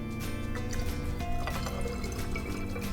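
White vinegar is poured into a plastic spray bottle that already holds water, giving a quiet, steady trickle and splash with small drips throughout.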